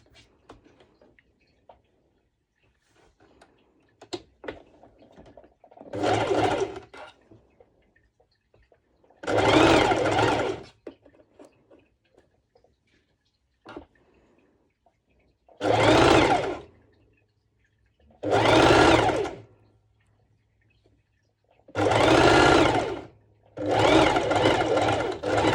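A sewing machine top stitches a sporty mesh top, running in six bursts of one to two seconds each with quiet pauses between them. Faint handling clicks fill the gaps.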